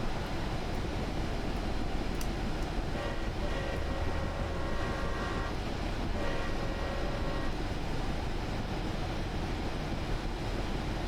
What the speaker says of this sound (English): It's a neat little train.